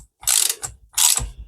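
A socket ratchet clicks in two quick bursts while nipping up a motorcycle front fork bolt during a fork oil change, loud and close with sharp metallic pawl rattles.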